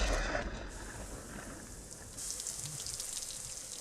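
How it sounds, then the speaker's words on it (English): Rain falling as a soft, steady hiss, fairly faint and constant, with a brighter, heavier wash in its second half. "finally those clouds of gas and steam condense and rain upon that planet"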